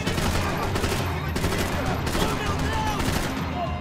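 Dense, continuous gunfire from a Max Payne 3 firefight, a steady barrage of rapid shots with no break, loud and close throughout.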